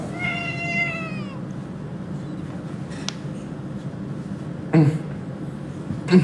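A cat meows in a quick string of short, rising cries during the first second, close and clear. A few sharp clicks and soft thumps follow over steady low room noise.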